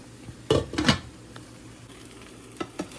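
Egg frying in a pan during a simple breakfast: soft sizzling underlies a few scraping clinks of a utensil against the pan, two bunched near the start and two lighter ones near the end.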